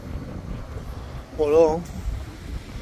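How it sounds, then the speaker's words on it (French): Strong wind gusts across the microphone at an open market or flea-market spot where a camper van is parked in Italy, a steady low rumble throughout with a short voice speaking over it midway. "Par contre, c'est rempli de vent."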